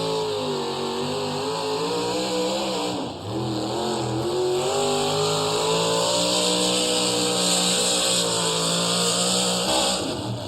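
A tractor-pull vehicle driven by Gary White of Centersburg, Ohio roars down the track at the Arcola Pull, its engine loud and sustained, with a brief dip in the roar before it keeps pulling.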